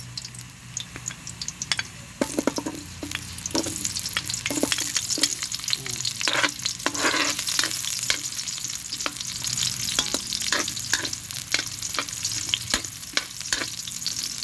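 Onion frying and being stirred in a pan for chicken tinola, a steady sizzle with repeated close scraping and clacking of a utensil against the pan throughout.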